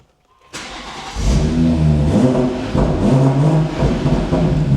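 A BMW M140i without particulate filter, fitted with an M Performance exhaust, barks to life and revs hard, its raspy, loud exhaust note rising and falling in repeated throttle blips close by.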